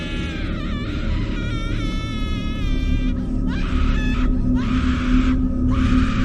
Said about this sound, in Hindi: सुमित को उस लड़की के चीखने और चिल्लाने की आवाज सुनाई देने लगी